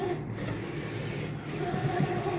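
A J16 large-format printer printing onto canvas, giving a steady mechanical whir and hum with soft rubbing texture, continuous and fairly close without pauses.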